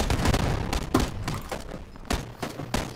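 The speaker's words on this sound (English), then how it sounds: "I'm hearing gunfire." Rapid bursts of gunfire in PlayerUnknown's Battlegrounds crackle repeatedly, a busy firefight with sharp shots and thuds packed closely together, no voices.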